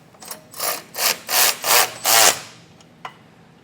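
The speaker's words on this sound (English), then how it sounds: "So now we're going to start snugging everything down using a 3/4 inch socket, and you're going to need a wrench on this larger one." Socket wrench ratcheting as bolts are snugged down on a Blue Ox base plate kit being installed on a 2026 GMC Sierra 1500, using a 3/4 inch socket and wrench: five steady rasping strokes close by, then a single metallic tick.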